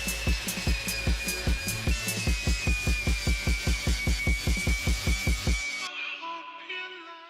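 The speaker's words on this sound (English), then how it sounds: "I'm going to have to take back all of this filler with the wire wheel" A wire wheel on a power tool grinding body filler off a car, a loud close whine with a rapid rhythmic throbbing pulse, then cutting out and spinning down.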